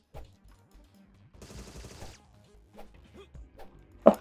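Gunfire in the Agent 64: Spies Never Die video game, a GoldenEye 007-style shooter: a few quiet shots and a short burst around the middle, ending in one sharper, louder crack, with sparse game sounds between.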